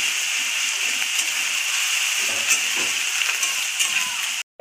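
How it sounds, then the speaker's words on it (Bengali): Onion frying in oil in a pan for a Bengali doi katla fish curry gives a steady, close, bright sizzle with faint occasional stirring scrapes, then it cuts off abruptly at the end. "পেঁয়াজটা লাল লাল করে ভাজা হয়ে গেছে, তেল ছেড়েছে"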